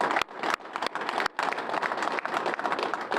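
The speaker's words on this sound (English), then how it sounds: "Let's give them a round of applause." A crowd applauds police officer nominees at a Police Officer of the Year ceremony, with steady dense clapping filling the whole stretch and a couple of brief dips.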